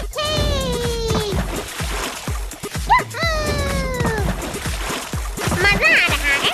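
Water splashes and sloshes repeatedly as people play and splash each other, the bursts of splashing mixed with loud, excited voices talking and shouting throughout.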